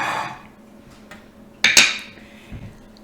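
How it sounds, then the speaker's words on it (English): A serving dish is set down on a kitchen counter with a sharp ceramic clink and a brief clatter, followed by a softer knock, close and with no voices. "So we have our little serving dish here."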